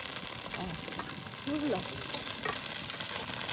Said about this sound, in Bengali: এখন আমি মটরশুঁটিটা দিয়ে দিচ্ছি খালি দিলে ধরো ফুটছে